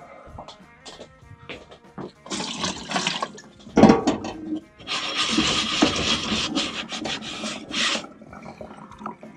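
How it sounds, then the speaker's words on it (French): Scrubbing and rinsing a snake terrarium's plastic water bowl, with white vinegar for cleaning: close, uneven rubbing and rasping strokes in bursts, mixed with splashing water, the busiest and loudest stretch coming in the second half. "Je nettoie mon bac d'eau."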